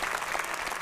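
Audience applause at a comedy talk show studio, honoring Indonesian football: a short, steady burst of dense clapping at moderate level, with no voices over it.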